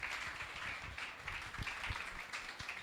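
A church audience applauds to welcome a prophetess, a steady wash of clapping at moderate distance that runs the whole time without talk.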